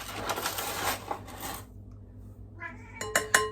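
A pet cat in a kitchen where cookies are being baked lets out a few short, close meows near the end, after a stretch of clattering and a quiet pause.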